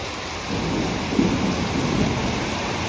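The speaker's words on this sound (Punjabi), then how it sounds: "ਬੱਦਲ ਵੀ ਬਹੁਤ ਜ਼ਿਆਦਾ ਗਰਜਦਾ ਹਵਾ ਵੀ ਪੂਰੀ ਆ ਤੇ ਮੀਂਹ ਵੀ ਪੂਰਾ" A heavy downpour with thunder and strong wind pours down over farm fields with paddy. It is a loud, steady roar of rain with a low rumble swelling beneath it.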